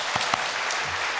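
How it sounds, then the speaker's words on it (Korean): A congregation claps during a Sunday church service. A few sharp individual claps stand out above a steady wash of applause at moderate volume. "하나님께 영광 박수 올려드리겠습니다"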